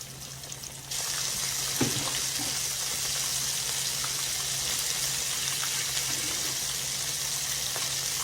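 Chicken paillard frying fast in a pan, a bright steady sizzle that jumps up after a quieter first second and holds evenly, close by, with a few soft clinks and no voices.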